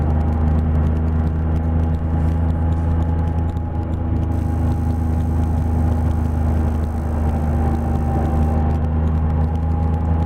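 A Can-Am Spyder F3 three-wheeler riding downhill along Foothills Parkway: a steady engine hum and road rumble with constant wind rush, continuous and fairly loud, no talking.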